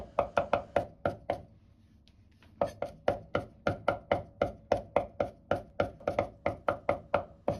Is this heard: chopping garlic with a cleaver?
yes